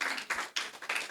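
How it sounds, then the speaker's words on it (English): Applause from the audience at a Girl Child Dialogue event in Nigeria comes in short bursts of clapping, close and moderately loud, over about a second. "Please, a round of applause."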